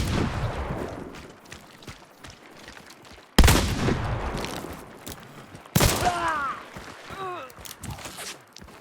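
Two loud, sharp shotgun blasts crack out a couple of seconds apart during a close-quarters firefight in a first-person shooter game, each trailing off into echo, with scattered distant gunfire, footsteps and some talking between them.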